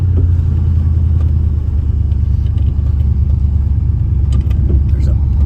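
A 1955 Oldsmobile 88 fitted with a 350 engine and 700R4 transmission cruises down the road, its steady low engine and road rumble continuous and close throughout.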